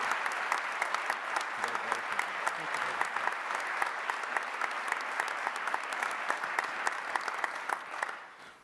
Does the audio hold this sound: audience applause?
yes